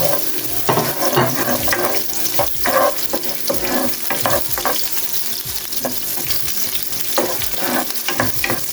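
Spinach, sardines, onion and garlic sauté in a pan with a steady loud sizzle, broken by repeated scraping stirs and clinks of a utensil against the pan, close up and without talk.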